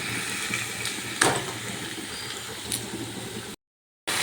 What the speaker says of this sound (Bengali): আমি যে চিকেনটা ম্যারিনেট করে রেখে দিয়েছিলাম সেই চিকেনের পিসগুলো দিয়ে দিচ্ছি